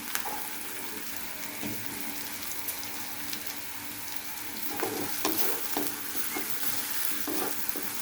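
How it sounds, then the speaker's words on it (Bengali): Chopped onion fries in a hot pan for a fish curry, giving a steady, close sizzle with scattered crackles and pops throughout and no voices. "পেঁয়াজটা আমি একটু ভালোভাবে ভেজে নিচ্ছি।"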